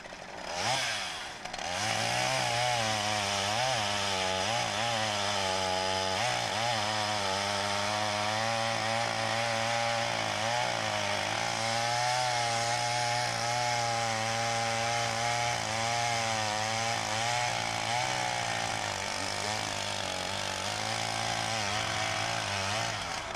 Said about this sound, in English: There's Margaret working on the chainsaw.